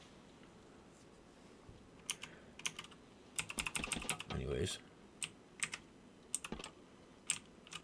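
Computer keyboard typing during a Sunkenland gameplay session: scattered clicks, then a dense burst of keystrokes, more clicks after it, and a brief spoken word partway through.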